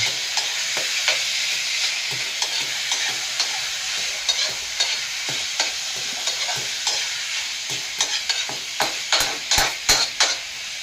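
Chicken gizzards sizzle steadily while frying in a pan, with a spatula stirring through them in repeated scraping strokes that grow sharper and quicker toward the end; no talking.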